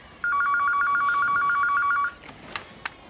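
Telephone ringing indoors, a clear electronic trill of rapid pulsed tones for about two seconds, then stopping, followed by a few faint clicks and handling noises.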